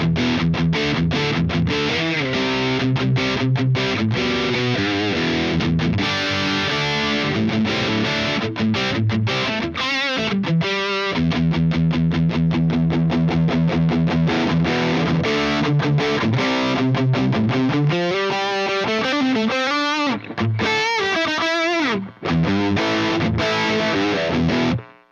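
Electric guitar played through a Friedman Dirty Shirley overdrive pedal into an EXH Mig 50 amp, with mids cut, producing loud, continuous distorted riffs and chugging palm-muted passages throughout, with no talking.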